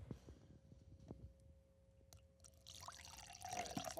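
Water poured into a cup held close to a microphone: a steady, brightening liquid stream builds through the second half and grows louder as it fills, over faint background rumble.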